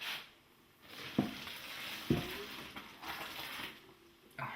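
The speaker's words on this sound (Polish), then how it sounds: "No i wlewamy wodę." Water is poured into bread dough in a bowl and stirred, giving a soft pouring trickle followed by a few wet slaps and squelches from mixing, quiet and close.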